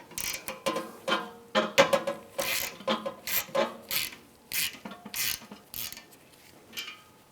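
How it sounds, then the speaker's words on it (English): Socket wrench with an E7 socket backing a stud out of an old A/C condenser from a 2008-2017 Buick Enclave, giving a rapid series of loud ratcheting clicks and rasps in uneven bursts, close up with no talking. "I'm going to take the stud out of the old one. I'm going to use an E7 socket."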